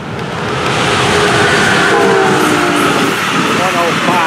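A fast train roars past close by, loud and sustained with rattling wheels, while a person talks over the noise.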